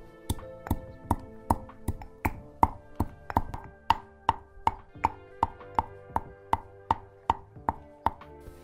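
A fragrant Ayurvedic forest root crushed with steady pounding, about two dull, ringing strikes per second in an even rhythm, close and clear with no talking.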